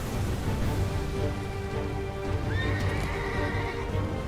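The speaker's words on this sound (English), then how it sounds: "Before you get stomped by a horse." A horse in Final Fantasy XVI neighs loudly amid game combat, a rising whinny over steady rumbling clip-clop and battle noise, with no talk.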